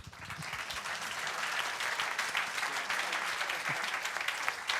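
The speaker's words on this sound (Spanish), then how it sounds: "Muchas gracias, aplausos." Steady, dense applause from an audience at the end of a tech conference talk, loud and continuous throughout the short stretch with no speech over it.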